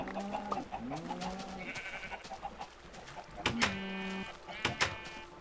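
Several bleats from sheep in the video game Minecraft, short wavering cries in quick succession, some overlapping, with clicks and small game sounds in between.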